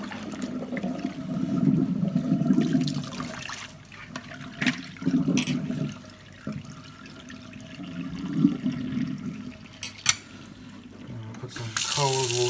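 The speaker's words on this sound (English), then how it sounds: "Let's empty out the water." Water is emptied out and a tap runs during cleaning after a Hoover Commercial C1310 vacuum's outer cloth bag, a gurgling, splashing flow that swells and fades in waves, close by, with occasional knocks and clatter.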